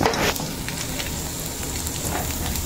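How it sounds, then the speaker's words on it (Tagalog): Garlic sautéing in hot oil in a pan while cooking bopis, giving a steady close sizzle and crackle throughout, with a brief louder spatter at the start. "at lalagay na po yung bawang at magigisa na"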